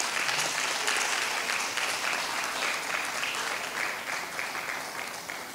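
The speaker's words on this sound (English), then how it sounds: "Give them a round of applause, please." Audience applause at an inter-high school debate day in the Turks and Caicos Islands, steady dense clapping throughout that slowly fades toward the end, with no voices over it.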